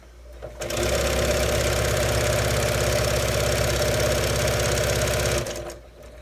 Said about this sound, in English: And I will back stitch a little in the beginning just to hold my stitch in place.